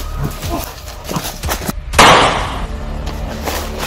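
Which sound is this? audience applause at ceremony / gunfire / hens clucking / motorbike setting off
gunfire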